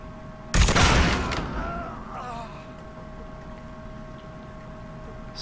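A brief, loud burst of gunfire in Mafia 3, a rapid volley lasting about a second, then fading into quiet game ambience.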